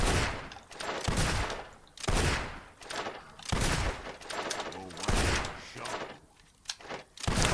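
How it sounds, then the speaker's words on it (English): Rapid gunfire bursts from a firearm in Fable 2, roughly five loud broadband volleys spaced about a second apart with a metallic reload clatter, over a noisy game soundtrack. "I reloaded while I was trying to shoot"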